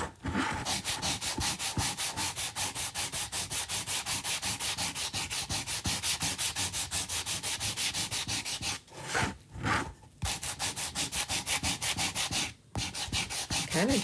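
Edges of a wooden piece being sanded by hand: fast, steady back-and-forth rubbing strokes in an even rhythm, close and continuous, with a few brief pauses near the end.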